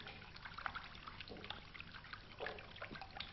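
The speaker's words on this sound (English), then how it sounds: "he splashed himself with water from the log" Water trickles and splashes from a log in a soft, irregular dribble with a few small bursts of splashing, faint and close, with no voices.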